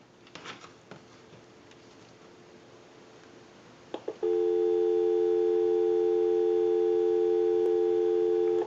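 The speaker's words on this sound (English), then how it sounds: "We'll go ahead and give you some dial tone." A payphone dial tone comes in suddenly after a few clicks and holds as a steady, loud, unbroken tone to the end.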